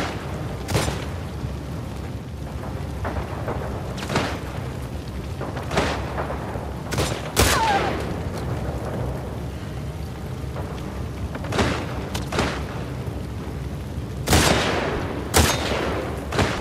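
Gunfire from The Last of Us Part II: repeated sharp shots and bursts scattered through the clip over a steady rain-like ambient bed, some close and loud, others lighter.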